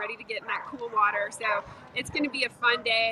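Dogs bark and yip excitedly at a dock-jumping event in Vail, short sharp calls scattered under someone talking close by in a busy outdoor crowd.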